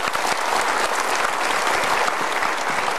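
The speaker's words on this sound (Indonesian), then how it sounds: "Boleh kasih tepuk tangan untuk mereka" A studio audience at a motivational talk show gives a dense, continuous round of applause for guests who came to the front, loud and steady throughout.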